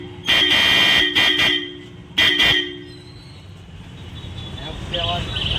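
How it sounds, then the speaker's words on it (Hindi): A Roots Megasonic horn fitted to a Honda Activa 3G scooter sounds three loud, close blasts: a long honk, a pair of quick short toots, then another honk, with a little background noise and distant voices afterwards. "अभी साउंड सुनाते हैं हॉर्न का कैसा है"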